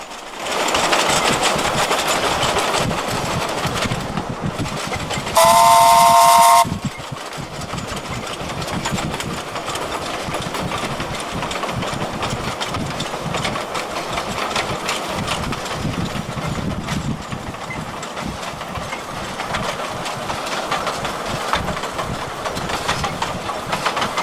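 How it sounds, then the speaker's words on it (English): Steam locomotive Ferdinand working a narrow-gauge train on the Gulbene–Aluksne railway, a continuous steady exhaust beat and running rumble heard from nearby, with a brief bright whistle-like tone partway through. "Ferdinand's chuffs on towards Aluksne, the little train with a steady beat."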